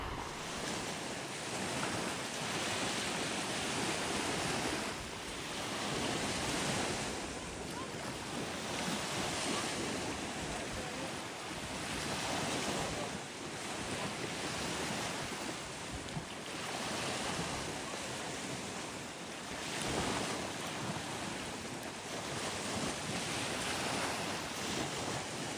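Ocean waves rolling onto a beach at an Ontario provincial park, with wind buffeting the microphone; a continuous roar that swells and recedes in slow surges.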